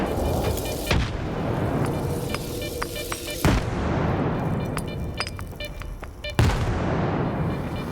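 A grenade blast in the shooter game S.T.A.L.K.E.R. 2, with sharp booms near 1, 3.5 and 6.4 seconds over a continuous rumble of gunfire and battle noise, loud and close.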